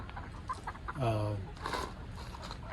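Chickens cluck inside a Tuff Shed converted into a chicken coop, giving a short harmonic squawk-like call near the middle and a few softer clucks around it over faint ambient noise.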